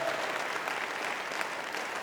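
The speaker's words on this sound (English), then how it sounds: "If you can have a round of applause for our wonderful panel." Audience applause for a panel at a festival-of-ideas event, a steady dense burst of clapping from a crowd that carries evenly through the whole moment with no voices over it.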